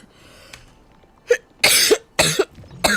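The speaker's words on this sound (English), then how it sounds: "so sorry that you guys have to hear me cough and everything" A short throat sound, then a few harsh coughs in quick succession, loud and close, with brief pauses between them.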